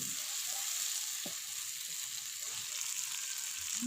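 Chopped capsicum and potatoes fry in a pan with a steady, close hissing sizzle, a couple of light stirring knocks, and no speech.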